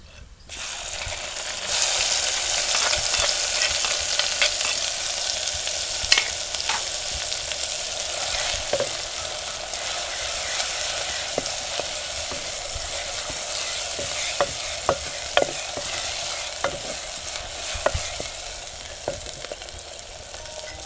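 Green chilies, ginger, garlic and asafoetida sizzle steadily in hot oil, a dense continuous frying hiss with scattered small pops and clicks of stirring throughout.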